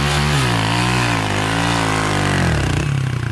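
A Honda Grom 170cc motorcycle with a Koso four-valve head revs hard and close, its engine note climbing and wavering through a sustained high-pitched wail before dropping back, loud and alone.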